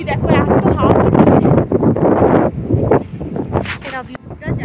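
Strong, cold wind gusts buffet the microphone in Yumthang Valley in North Sikkim, beside a river with forest and mountains nearby. The rushing is loud and close, with a person talking over it.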